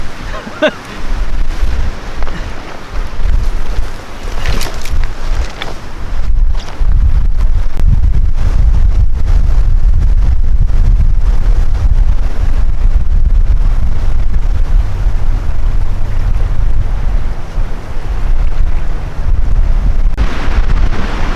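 Strong wind buffets the microphone at a lakeside carp fishing spot, a loud continuous rumble with gusty bursts that fills most of the clip.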